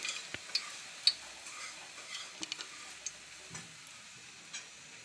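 Bay leaves fry quietly in hot ghee, giving a soft, faint sizzle dotted with small sharp pops and ticks at irregular intervals, with no voices.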